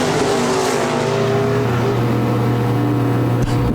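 SportMod race cars roar around the Park Jefferson Speedway in a heat race, a loud, continuous blend of several engines at high revs with steady pitch, close and overlapping with no voices.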